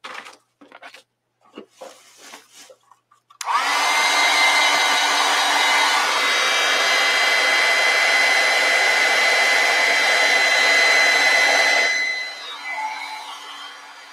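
A hair dryer blows steadily and loudly for several seconds to dry acrylic paint, starting abruptly after a few soft handling sounds and tapering off near the end.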